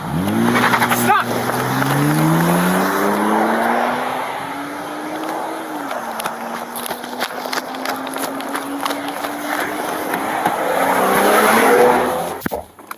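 A car fleeing police takes a hard turn, its tires squealing and skidding in a long rising-then-steady screech over engine roar, loud and close with a few sharp thumps, and voices talking over it.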